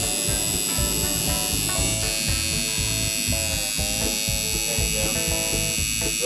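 Tattoo machine run by a pedal, buzzing steadily throughout with a continuous electric hum and rapid throbbing, close and loud, with no talking.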